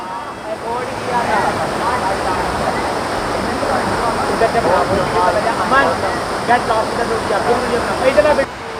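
A waterfall near Kenhati Garden in Kashmir rushes in a steady, loud broadband roar with no break, close by and continuous throughout.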